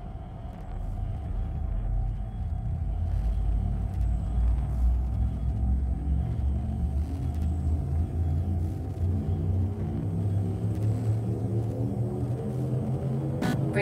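A spaceship drive charges in the game Elite Dangerous, a deep steady rumble and hum that builds in rising tones toward the end.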